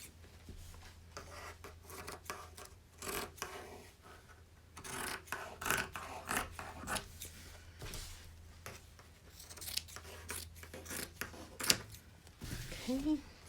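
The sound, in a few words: scissors trimming fabric sides of a quilt purse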